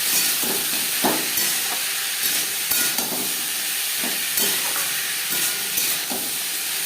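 Potatoes frying in a pan with salt and turmeric powder for a vegetarian potato chorchori, giving a steady, close sizzle broken by repeated scraping stirs of a spatula.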